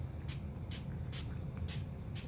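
Magicals color spray is sprayed onto a craft card in quick hissing bursts, about five short sprays in a steady rhythm, close and fairly quiet over a low background hum.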